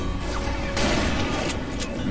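Rapid gunfire from a Wild West shootout in the video game Call of Juarez: Bound in Blood, a loud continuous fusillade of shots and crashes that stays dense throughout.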